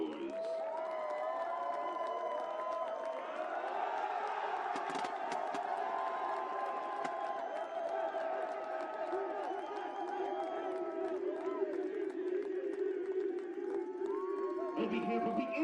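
A crowd at the 2019 NCAA Division III men's soccer championship cheers and claps for the Tufts Jumbos, a sustained roar of voices with scattered clapping, loud and continuous, with some shouting rising above the mass.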